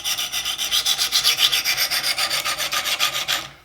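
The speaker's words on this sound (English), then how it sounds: "So I'm going to start out with the scrubbing motion and just work one side at a time." Hunting knife sharpened on a Wicked Edge guided sharpener with a scrubbing motion: steady rhythmic rasping strokes, about six per second, close and loud, with no voices, ending as the strokes stop.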